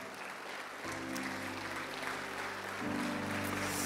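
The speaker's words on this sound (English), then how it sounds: "Can we give the Lord a clap offering of praise?" A church congregation claps together as a praise offering, steady applause rising a step louder partway through with organ or keyboard chords sustained underneath.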